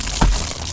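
Ice dam along a roof edge, loosened with hot water, breaks free and drops in a single short crack and thud, fairly close and loud against steady background noise.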